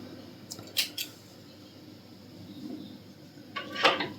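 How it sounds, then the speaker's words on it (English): Scissors snip through knitting yarn in a few sharp, close cuts, two quick snips early and another cluster near the end, in an otherwise quiet room. "Then we can snip this off."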